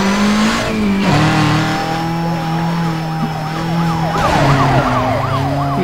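A police car siren wails loud and close in the racing video game Need for Speed Most Wanted, its rising and falling tone looping over a roaring car engine.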